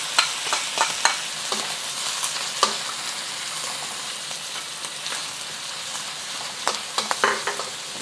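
Ginger, garlic, green onion and star anise sizzle and crackle in hot oil for Beijing fried sauce noodles, a steady close frying hiss dotted with pops and a few stirring scrapes.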